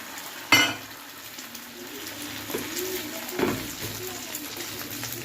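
An egg hits hot oil in a kadai beside soaked bread, giving a sharp initial crackle and then a soft, steady sizzle with a few further spattering pops, while pigeons coo faintly nearby.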